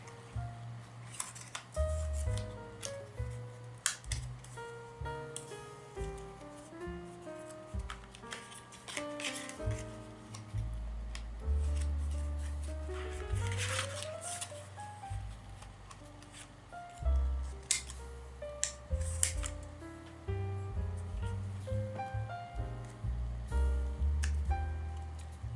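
Crisp snipping clicks of scissors cutting a paper tag, brief and scattered over steady background music.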